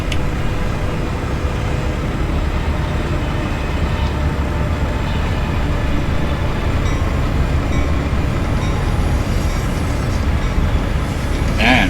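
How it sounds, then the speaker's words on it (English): A long train rolls through a crossing in American Truck Simulator, a steady unbroken rumble of rail cars and wheels that holds a constant, fairly loud level throughout, with no talking over it. "We've got a train crossing us."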